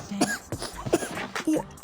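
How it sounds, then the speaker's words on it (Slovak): A few short, close coughs and throat-clearing bursts come in quick succession, mixed with a little voiced sound between them. "Ja kašlem."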